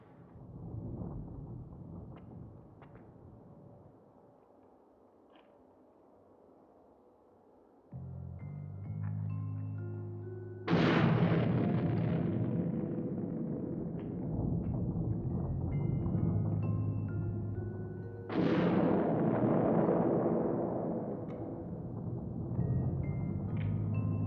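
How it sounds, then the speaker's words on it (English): Two deep, booming blasts, several seconds apart, each swelling suddenly over a low rumbling hum and then fading slowly. "More surface explosions?"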